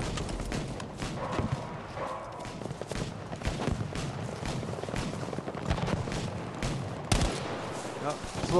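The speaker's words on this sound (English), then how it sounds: "A little friendly fire, no problem with that." Rapid friendly gunfire rattles across the Pacific battlefield in Battlefield V on PS4 Pro, dense overlapping shots and bursts with a few louder cracks near the end.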